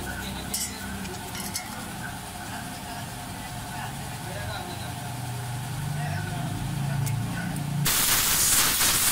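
A car engine idling at about 800 RPM at a mechanic's, a steady low rumbling hum running beneath someone talking, with a brief hiss near the end.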